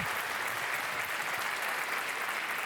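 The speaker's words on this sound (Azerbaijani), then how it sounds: "Şirzad qardaşımızı istəyirəm bir alqışlayaq." Dense, sustained audience applause fills a hall at an opening event, even and steady at moderate loudness, with a brief louder burst at the very end.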